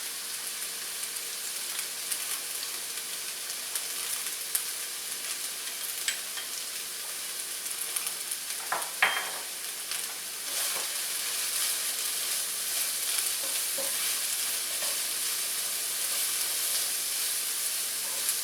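Finely minced garlic frying in hot oil in a wok, a steady loud sizzle and hiss throughout, with a short stirring clatter near the middle and no talk.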